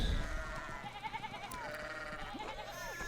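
Sheep bleat in the medieval video game Pentiment, several wavering calls overlapping against a quiet outdoor game ambience, fairly close and moderately loud.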